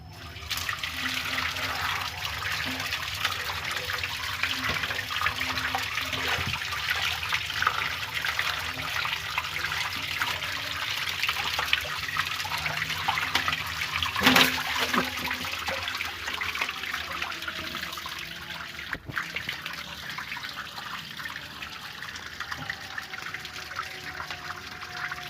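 Water runs steadily from a tap into a fish tank setup used for spawning snakehead fish, a continuous broadband rush with trickling detail lasting throughout, fairly close and alone without talk.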